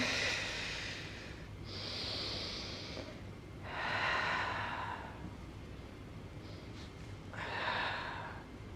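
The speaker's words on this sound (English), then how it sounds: "Inhale up, exhale down, inhale up, exhale down" Slow yoga breathing during a guided session, with three long, airy breaths alternating inhale and exhale, each lasting a couple of seconds, close and fairly soft, over a faint low hum and no talking.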